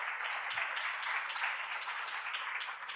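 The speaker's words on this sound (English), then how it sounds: "Let's give her a round of applause" A small audience at a hospital grand rounds lecture claps for a guest speaker, a faint, steady patter of hands lasting a few seconds without any voices.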